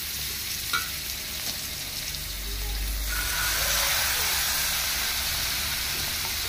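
Chicken liver pieces frying on a hot tawa, a close, steady sizzle with hiss that swells louder midway as more pieces go onto the pan.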